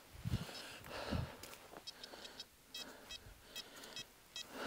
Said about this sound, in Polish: Są jakieś sygnały wykrywaczowe.